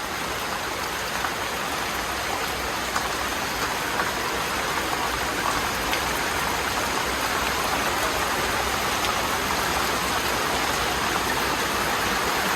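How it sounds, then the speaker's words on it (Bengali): Very heavy rain pours down in hot sunshine, a dense, steady, full-spectrum roar of drops that stays loud and unbroken throughout with no voices. "এত রোদের ভিতরে এত জোরে বৃষ্টি আমি আগে কখনোই দেখিনি"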